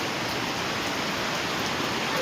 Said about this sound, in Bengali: এরম বৃষ্টি হলে পরে কি করি ঘাস আনতে যাবে।